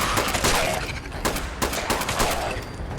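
Rapid gunfire in Fallout 76 against a horde of ghouls, dense overlapping bursts of shots fired close and loud over a few seconds with no pauses.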